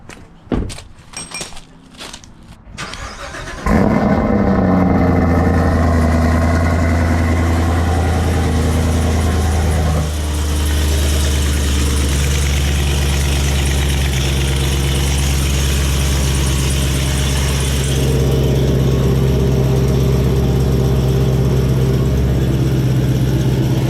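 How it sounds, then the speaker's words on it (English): A 2020 Camaro ZL1 1LE with an LT4 V8 and Kooks long tube headers cranks and roars to life after some clinking and door sounds, then drops into a loud, steady, rumbling idle close by. "We let the Permatex dry overnight. Now we're gonna turn it on, and hopefully there's no leaks."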